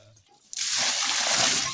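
A bag being washed in a pond, splashing and sloshing in the water: after a quiet start, a sudden loud splash opens continuous close-up churning water that continues to the end.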